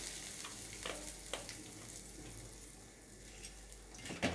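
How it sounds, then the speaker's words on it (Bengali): Whole five-spice seeds and asafoetida crackle in hot oil in a home kitchen pan, a steady low sizzle with a few sharp pops and a louder burst near the end, no voices. "ওই তেলের মধ্যে আমি একটু 5 ফোড়ন দিয়ে দিলাম, একটু হিং ফোড়ন দিয়ে দিলাম"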